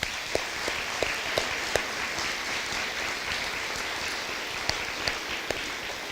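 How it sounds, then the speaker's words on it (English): Steady applause from an audience at an elementary school dedication and ribbon-cutting ceremony, sustained clapping with a few sharper individual claps standing out, continuing for the full six seconds with no talking. "Let's give her a round of applause."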